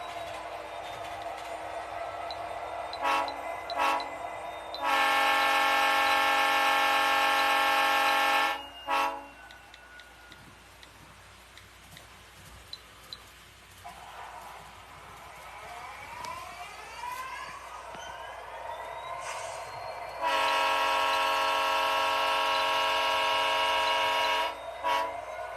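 A freight train rolls past with a caboose, its horn giving two long loud blasts separated by a stretch of rumbling, squealing wheels on the rails, with faint remarks from people nearby.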